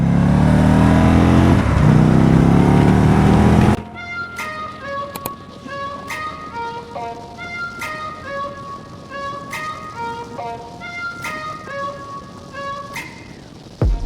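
An Indian 101 Scout motorcycle roars loudly and at speed with heavy rushing noise for a few seconds, then cuts abruptly to soft tinkling melodic music.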